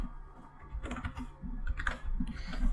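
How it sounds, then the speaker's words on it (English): Close, rapid typing on a computer keyboard, a quick run of uneven key clicks that builds slightly louder toward the end, with no voice over it. "and then type some passwords"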